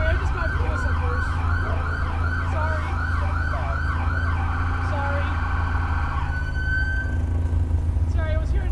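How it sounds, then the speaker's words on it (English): An emergency vehicle siren wails in repeated rising and falling sweeps during the 2023 Franklin County Fair parade, loud and close over a steady low engine and crowd rumble, then fades out near the end. "I was hearing sirens, so I got a little confused."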